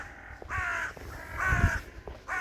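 A crow caws outdoors near a stormy seaside, three harsh calls at a moderate distance over low wind and background rumble.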